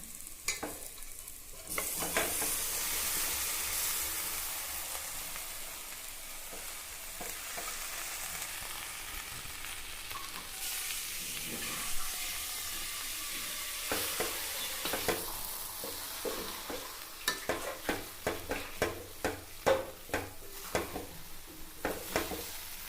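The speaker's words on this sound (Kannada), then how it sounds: "ಇವಾಗ ಇದನ್ನು ಇದರೊಳಗೆ ನಿಧಾನ ಸುಟ್ಕೊಳ್ಳೋಣ" Ingredients for bisi bele bath sizzle and crackle as they roast slowly in a hot pan, with repeated scraping stirs growing more frequent toward the end.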